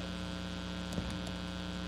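A synthesized DC signal from a simple cosine patch with the modulation index at zero, heard as a steady low hum with faint tonal lines, alone and unchanging throughout.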